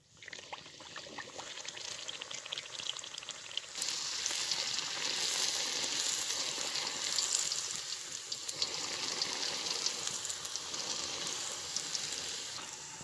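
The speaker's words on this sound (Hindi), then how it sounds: "आप जब इनको फ्राई करेंगे तो जब ये पकने के करीब होंगे तो ऊपर से आपने इस तरह दबाना है" Golgappa puris fry in hot oil with a steady, hissing sizzle that grows denser partway through and stays close and continuous. Nobody speaks.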